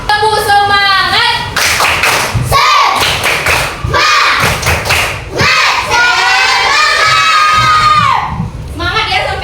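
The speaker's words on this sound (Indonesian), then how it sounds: "Tepuk semangat." Classroom children perform a rhythmic 'tepuk semangat' clapping chant, with loud, close claps and thumps mixed with energetic shouted, sung voices in patterned bursts.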